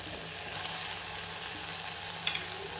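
Cumin powder and soya chunks frying in a pan, a steady soft sizzle that holds evenly throughout with a couple of faint clinks near the end.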